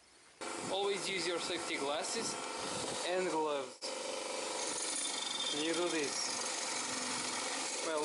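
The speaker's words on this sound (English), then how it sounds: "the bolts in the grinder with a brass brush to clean all the threads before inserting them" A brass wire brush on a bench grinder scrubs the threads of front brake caliper bolts from a 1987 Toyota Corolla AE86, a steady rasping grind running throughout, with a person talking over it in the first half.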